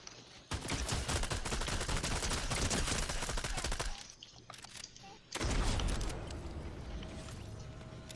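A submachine gun in a video game fires in rapid sustained bursts, one lasting several seconds, then a short pause and another long burst, loud and close, with no talk over it.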